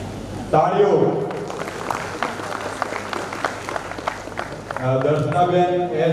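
Audience applause at a Mewada Suthar community honouring ceremony, a dense burst of clapping from a crowd lasting several seconds, with a voice speaking over it near the start and end.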